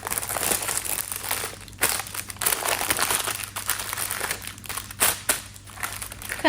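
Paper crinkling and crunching up close as a cut wedge of Jasper Hill Farm cheese is wrapped and folded, with busy, irregular rustles and sharper crackles throughout.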